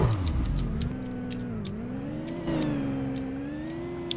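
A Roblox Car Crushers car engine hums and revs with a rising and falling pitch, steady and fairly close, with faint clicks scattered over it.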